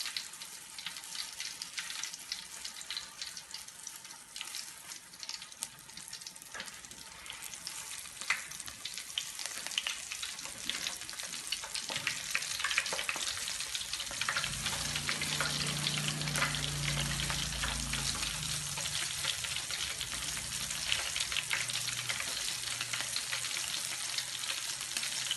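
Floured salmon pieces frying in cooking oil, a dense continuous crackling sizzle that holds steady throughout, with a low rumbling undertone joining partway, close by and with no talking.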